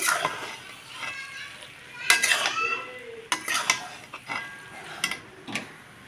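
Soybean biryani rice being mixed in a pot, with irregular scraping and clinking strokes of a utensil against the metal, a few sharp knocks standing out amid softer rustling stirs.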